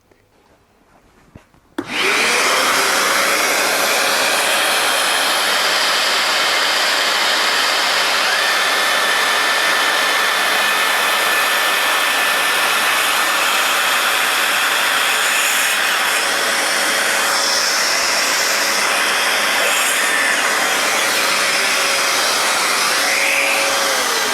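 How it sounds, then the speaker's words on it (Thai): A Dewalt DCS571 cordless circular saw runs with a vacuum dust extractor attached, starting after a brief quiet moment and then holding a loud, steady whine and roar of cutting and suction for over twenty seconds. "เดี๋ยวรอบต่อไปเรามาลองแบบ ต่อเครื่องดูดฝุ่นกัน"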